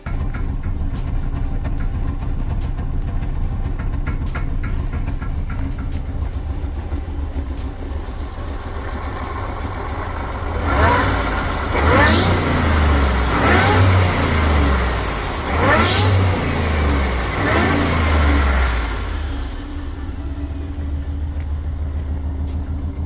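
A twin-charged Magnum engine misfires under boost, an uneven engine drone that surges into a run of sharp, ragged pulses midway before settling back, with no talking.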